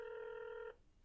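A telephone rings on an outgoing call, a steady multi-tone ring that holds for most of a second and then cuts off into quiet line noise.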